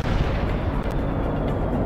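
Artillery fire in the World in Conflict strategy game, set in a battle for Seattle in autumn 1989: a dense, continuous rumbling barrage of booms with no pauses, loud and sustained throughout.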